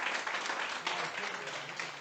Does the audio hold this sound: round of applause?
yes